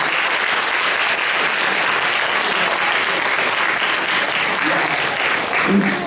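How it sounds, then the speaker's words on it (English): Steady, full applause rolls through a convention audience at the Japanizam 2017 cosplay event, dense and continuous for the whole stretch with a few voices faint beneath it. "We should actually give an applause for this."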